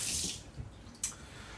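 Cold water splashes and runs briefly onto rice, a short hissing pour with a sharper splash near the end.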